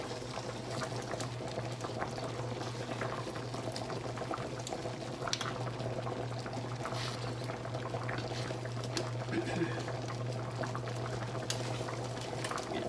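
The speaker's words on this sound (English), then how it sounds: "I'm just going to let that simmer in there and cook for just a little bit." Turkey patties in mushroom sauce simmering in a pan, a steady, quiet bubbling and sizzling with a constant low hum underneath, continuous throughout with no talking.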